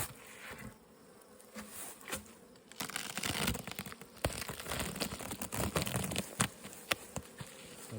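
Honey bees on hive frames buzz in a dense, close drone, punctuated by crinkling and tapping as frames are handled.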